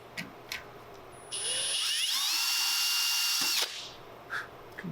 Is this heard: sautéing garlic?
no